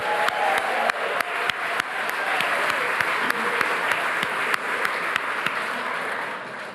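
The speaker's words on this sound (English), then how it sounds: "one more round of applause for Casey McDermott" Sustained, steady applause from an awards ceremony audience honouring the evening's MC, dense clapping at a constant level throughout, with a few sharper claps popping out above the wash and no speech over it.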